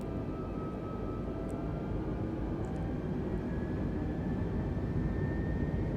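Airbus A320neo engines climb in Microsoft Flight Simulator on a San Francisco to Sea-Tac flight, producing a steady, dense, loud rumble with a faint whine that holds unchanged throughout, with no voices.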